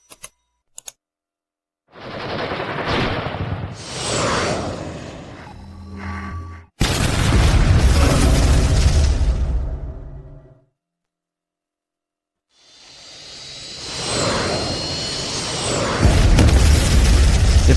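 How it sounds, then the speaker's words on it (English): Artillery fire explosions in repeated bursts: a long booming blast that starts abruptly, then fades out into silence, and another roar building toward the end, loud and near with crackling debris, no talk. "Artillery."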